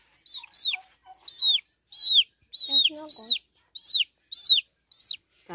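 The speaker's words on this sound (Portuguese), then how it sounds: "Ó, Ilan, vai passando aqui no pintinho" A chick being treated for fowl pox gives repeated high, sharp peeping cheeps close up, about eight distressed calls in quick succession, with a few lower sounds mixed in.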